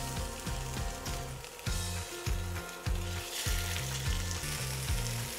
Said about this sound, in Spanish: vamos a sellar nuestra carnita